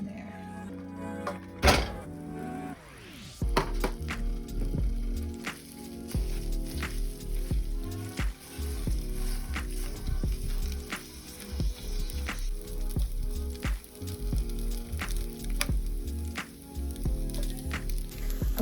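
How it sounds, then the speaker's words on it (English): Rice dumped into a hot pan for a homemade stir fry, a brief clatter followed by steady loud sizzling, with scraping and stirring knocks recurring throughout. "Now I'm gonna dump the rice"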